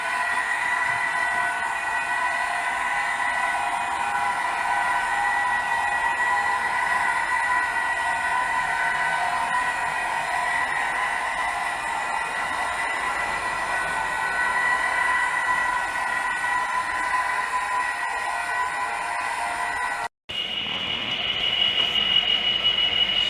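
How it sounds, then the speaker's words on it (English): A model railway Class 66 locomotive pulls a rake of freight wagons, giving a steady, close mechanical whirr and rolling hum that continues evenly for about twenty seconds before a brief cut and a higher-pitched tone. "So 66702 coming through with a freight cargo wagons with a silver bullet on the back"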